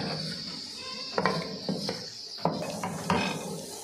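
Metal spatula scraping and clattering in a hot pan while mixing garlic powder into chicken chowmein, several sharp clinks over a steady sizzle, near and moderately loud.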